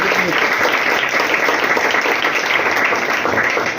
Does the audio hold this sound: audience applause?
yes